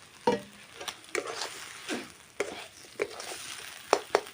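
Soybean curry with fried potato pieces is stir-fried in a pan, giving a soft background sizzle broken by irregular spoon scrapes and clacks against the pan.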